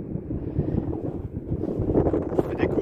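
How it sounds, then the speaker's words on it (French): Wind gusts buffet the microphone on Espiguette beach by the sea, a steady low rumbling roar that swells louder toward the end. "Il y a du vent."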